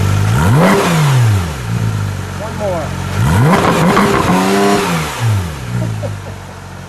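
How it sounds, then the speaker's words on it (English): A 2016 Porsche 911 GT3 RS engine revs sharply twice, rising and falling in loud bursts close by, with a brief spoken remark between. "Let's hear a little rev with that."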